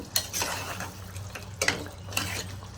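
A spoon stirs mutton curry with fresh coriander in a metal pot, giving scraping clinks and scrapes in uneven bursts against a low simmering bubble, close and fairly quiet, with no talking.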